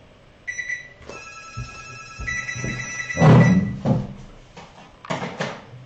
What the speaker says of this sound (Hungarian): Természetesen a városi telefonnak mikor kell megszólalni, amikor az ember ugye órát tart.